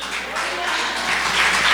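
A Catholic church congregation claps for the Lord during a sermon, a sustained, dense wash of applause that holds steady and swells slightly toward the end, with no voice over it.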